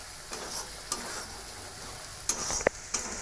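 Soybean and potato being sautéed with Kashmiri chilli powder in a pan, a quiet sizzle with a few sharp stirring clicks and scrapes over about three seconds.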